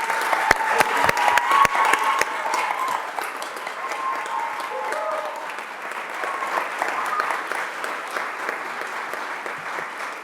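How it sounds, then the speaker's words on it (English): Sustained applause from an audience at a swearing-in ceremony, opening with a few sharp individual claps and swelling into a dense, steady clapping that fills the room with no speech over it. "That deserves a major applause."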